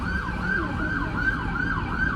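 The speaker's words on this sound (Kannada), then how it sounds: "ಇಲ್ಲಿ ಆಂಬ್ಯುಲೆನ್ಸ್ ಸೌಂಡ್ ಬರ್ತಾ ಇದೆ" An ambulance siren wails in a steady repeating rise-and-fall cycle, loud and close, over a low rumble of road traffic in Dubai.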